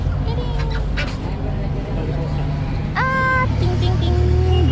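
Ducks quack at a farm with a few honking calls, rising clearly near the middle over steady background noise and people talking.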